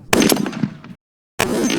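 A .50 caliber armor-piercing incendiary round strikes a giant kettlebell with a very loud, close blast and rumbling tail. The sound cuts to silence, then another loud roar begins.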